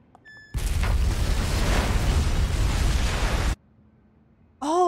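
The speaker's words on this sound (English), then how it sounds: "Oh, there's an explosion." A loud, sustained explosion roars for about three seconds in the horror video game Unheard: Mental Hospital, then cuts to a low hum before a rising tonal sound begins.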